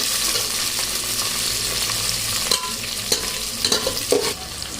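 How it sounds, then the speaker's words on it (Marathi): Onion and tomato frying together in a pan for masala rice, a steady close sizzle with scraping stir strokes clicking in near the end. "कांदा, टोमॅटो सगळं एकदमच टाकून घ्यायचं आणि आता 1-2 मिनिट छान असं हलवून घ्यायचं"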